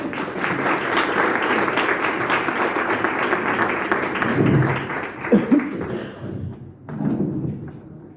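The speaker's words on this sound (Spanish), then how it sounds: "Un aplauso para Marta" Audience at a poetry gathering in Torrejón applauds warmly for about four seconds, then the clapping fades into a few thuds and bumps, some soft laughter and a brief final patter of claps.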